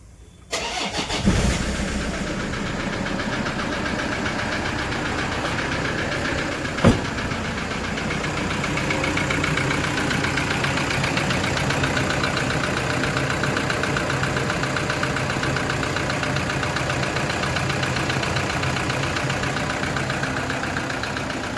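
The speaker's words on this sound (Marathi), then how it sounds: "नॉकिंग करते गाडी, त्यामुळे आपण इंजिन काढणार आहे" A Toyota Innova engine with a knocking fault cranks and fires after a short moment, then settles into a steady, loud, close idle with a rough rhythmic clatter; one sharp click sounds partway through.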